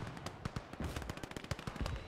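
Rapid bursts of battlefield gunfire crackle faintly in a World War II tank combat game on the Eastern Front, a quick irregular string of sharp pops with no voices.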